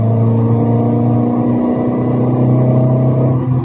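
A Tata Altroz diesel car pulling in fourth gear during a test drive: a loud, steady diesel drone heard from inside the car, holding an even pitch and swelling slightly toward the end.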